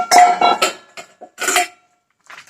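Kitchen vessels being picked up and set down while preparing cut carrots, a few sharp metallic clanks and clatters of pots and utensils in quick bursts, close and fairly loud, then a short pause and a softer clink.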